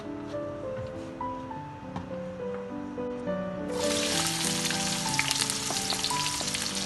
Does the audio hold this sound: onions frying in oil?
yes